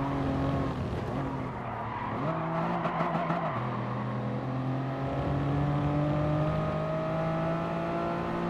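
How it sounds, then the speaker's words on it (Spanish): A safety car engine revs in Gran Turismo Sport, its steady harmonic drone rising and falling in pitch as the revs climb, with a tire squeal and loud continuous engine tone throughout, no talk. "Cuando lo subes de revoluciones, parece que se active el coche."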